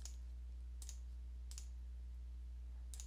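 Computer mouse clicks on a Windows 10 desktop while a new folder is made, four short sharp clicks spaced about a second apart, close and crisp over a steady low hum.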